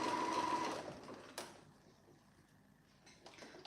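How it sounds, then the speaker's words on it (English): A sewing machine stitches through three layers of fabric for a roll-neck on a T-shirt, running in a loud burst that stops abruptly, then a quieter stretch with a faint mechanical click before it starts up again. "I'm doing this in little short sharp bursts because there's 3 layers of fabric here"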